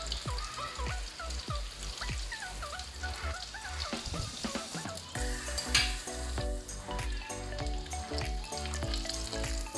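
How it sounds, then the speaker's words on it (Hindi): Spiced mutton chops fry in oil in a pan, giving a steady close crackling sizzle with occasional sharper spits and scrapes throughout, while music plays underneath. "ये बहुत अच्छी तरीके से फ्राई हो गई है।"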